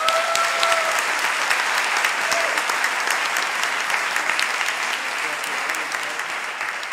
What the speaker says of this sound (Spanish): vamos a dar un fuerte aplauso a los que están de acuerdo